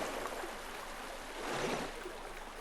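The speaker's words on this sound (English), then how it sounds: "Jump in the water because why not?" Player character jumping into and wading through water in the video game PINE, a steady soft splashing and trickling wash that fills the clip evenly, swelling slightly midway, with no talk over it.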